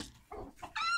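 Chickens, roosters and hens kept indoors, cluck in a few short, close bursts, ending in a louder, higher squawk.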